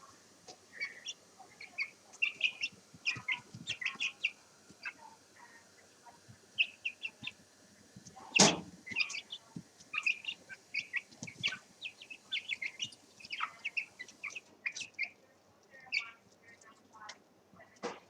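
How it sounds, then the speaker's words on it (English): Chicks peep indoors in a house overrun with young chickens, their short high chirps scattered in clusters throughout, with one sharp loud knock partway through. "my house is being taken over by chickens"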